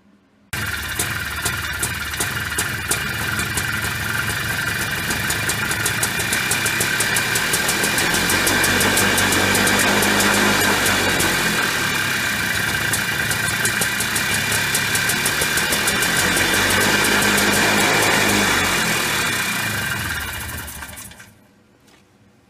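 A 1988–2003 Polaris Trail Boss ATV engine, with a crankcase seal that is sucking in air, runs steadily with a loud, close, rattling idle for about twenty seconds, then cuts off abruptly near the end.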